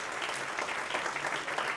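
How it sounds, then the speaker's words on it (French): An audience at an aeronautics and hydrogen workshop gives the speakers a short, brisk round of clapping, fairly close and steady, with no one talking over it. "Je pense qu'on peut les applaudir."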